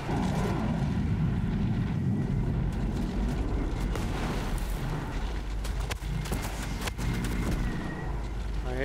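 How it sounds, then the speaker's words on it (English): Rocket launcher hits and blasts in the Ghost Recon Breakpoint shooter, heavy rumbling booms and dense battle noise running throughout, with voices talking over the gunfire. "I hit him with a rocket."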